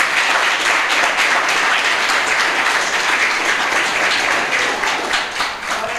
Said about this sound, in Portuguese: Quantos podem aplaudir os céus pela vida do pastor Jones?